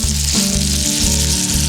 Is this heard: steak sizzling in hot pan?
yes